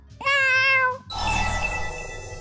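A cat meows in the video game Tales of Xillia 2, a single clear, drawn-out meow followed by game music and background ambience.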